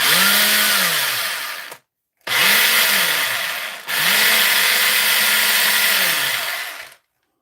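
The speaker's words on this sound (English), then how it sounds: "So he's an SDS drill that goes in ordinary mode." SDS drill with a jammed hammer mechanism whines loudly up to speed in three bursts, each spinning up then winding down, separated by short silences, no speech.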